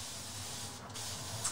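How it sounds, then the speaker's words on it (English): A spray bottle mists watercolor paint in a soft, steady hiss lasting over a second, close by and fairly quiet, with a slight burst at the end. "So I'm going to spray these, and we're going to paint."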